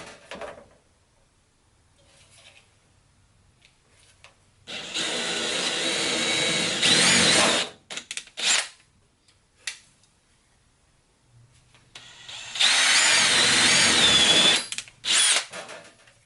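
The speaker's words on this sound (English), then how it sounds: "That should be it for the drill." A power drill whirs through metal in two long bursts, several seconds each, with short trigger blips and quiet pauses between.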